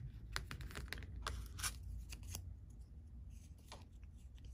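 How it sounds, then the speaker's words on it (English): Scissors cutting a square away from scored cardboard while building a reinforced box, a series of close, crisp snips and crunchy cuts in irregular rhythm, quiet and alone with no talking. "And then we are going to cut this square away."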